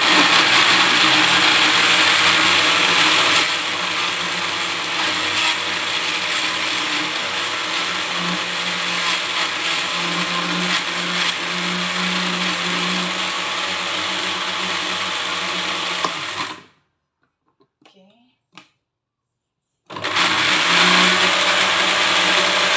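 A blender motor whirs loudly and steadily with a rattling mechanical edge, cuts out abruptly for a few seconds, then starts up again.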